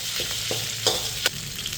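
Red curry paste sizzles and crackles in hot oil in a wok while a utensil scrapes and stirs the pan in a few quick strokes.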